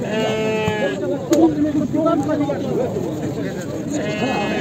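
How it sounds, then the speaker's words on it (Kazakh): A female goat bleats at a livestock market with a few wavering, nasal calls at the start and again at the end, heard over a murmur of crowd chatter. "Урғашы ешкі."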